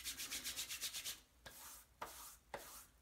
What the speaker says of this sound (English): And I'm just gonna rub that in.